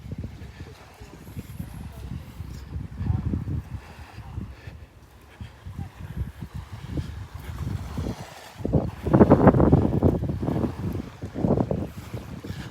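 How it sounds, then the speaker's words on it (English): Wind buffeting a microphone on a beach walk at Delnor-Wiggins, a low roaring rumble that rises and falls in gusts, strongest toward the end, with faint surf behind. "A little breezy up here,"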